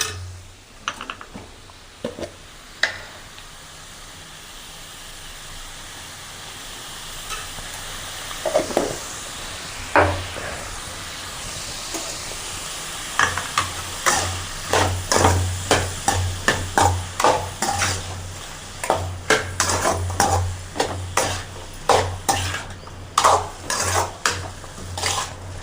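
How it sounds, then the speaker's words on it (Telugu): Pieces of snake gourd fry and get stirred in a pan for a Telugu-style chutney: a steady soft sizzle under repeated scraping and clinking of a spoon against the pan, with the strokes growing quicker and louder toward the end. "ఈ పొట్లకాయ ముక్కలు కొంచెం మెత్తబడే వరకు ఫ్రై చేసుకోవాలి."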